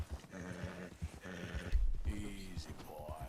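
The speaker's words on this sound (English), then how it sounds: "My horse is not happy about the cold." A horse in the Red Dead Redemption 2 video game, uneasy in the cold, with low snorts and heavy hoof thuds in an uneven rhythm, fairly faint and mixed with other game sounds.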